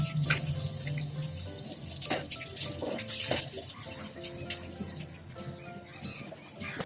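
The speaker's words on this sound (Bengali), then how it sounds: "ব্রাশ করে নিচ্ছি, মুখটা ধুয়ে নিচ্ছি" Tap water runs steadily into a sink while someone washes their face after brushing their teeth, a continuous splashing hiss with brief louder splashes and faint birdsong in the background.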